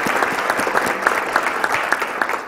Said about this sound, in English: So let's give Destiny a big round of applause.